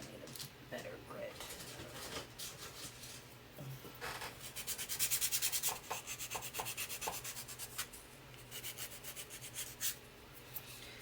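Wood is roughed up by hand with sandpaper, producing soft, close scratchy rubbing that builds into a quicker, louder run of rhythmic strokes midway, with faint talk in the background.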